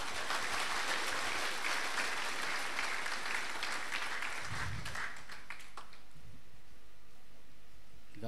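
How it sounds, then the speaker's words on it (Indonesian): An audience applauds at a university graduation ceremony in Tarakan, a dense, sustained wash of clapping that holds steady for several seconds, then thins to scattered claps. "Coba tepuk yang meriah sekali lagi."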